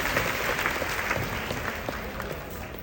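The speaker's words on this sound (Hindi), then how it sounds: "ताली बजाओ, आप भी ताली बजाओ।" Audience clapping during a children's game session, a steady wash of many hands clapping throughout, moderately loud, with faint voices underneath.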